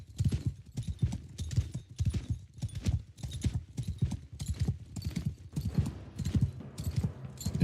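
Horses galloping in a video game, a fast, steady clip-clop of hooves pounding in rhythm over snowy ground, fairly loud and continuous throughout with no talk over it.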